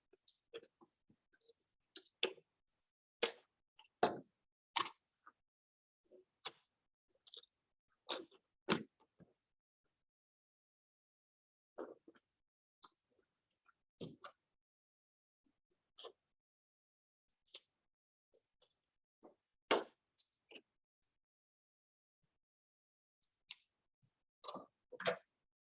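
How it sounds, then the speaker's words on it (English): Scissors snipping a paper square out for a Christmas advent calendar craft, a string of short sharp clicks and snips in irregular bursts, close and fairly quiet with pauses between cuts. "I'm going to quickly cut mine out."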